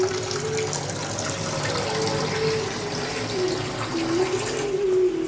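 Tap water runs steadily into a kitchen sink while raw chicken is rinsed for a Sunday chicken biryani, a continuous close splashing flow with no talk.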